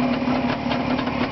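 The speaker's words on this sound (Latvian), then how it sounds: "Te man stendā stāv motors uz pārdošana." A Jawa 360 motorcycle engine mounted on a stand runs steadily with a buzzing, even two-stroke drone, close and loud, for just over a second.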